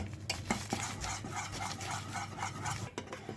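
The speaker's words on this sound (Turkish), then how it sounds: "Karıştırıyoruz" A spoon stirs thick custard with melted butter in a pot, making soft, rhythmic scraping and swishing strokes against the pot. The sound is close and quiet, with no talk.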